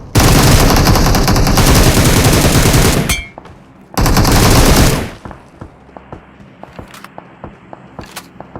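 Rapid automatic gunfire in a BGMI (PUBG Mobile) battle, two long loud sustained bursts separated by a short gap, then scattered single shots and quieter distant firing.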